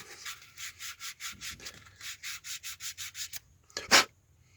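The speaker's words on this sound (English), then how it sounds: "get a piece of sanding paper" Rhythmic back-and-forth rubbing of rolled-up sandpaper inside a caravan door handle and lock, a dozen or so quick even strokes close by, ending with a brief sharper scrape.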